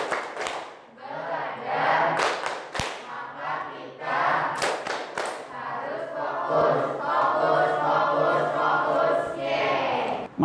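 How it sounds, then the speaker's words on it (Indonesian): A classroom group claps hands together, loud and dense, with thuds and shouts mixed into a continuous burst of rhythmic clapping. "Tepuk tangan, fokus."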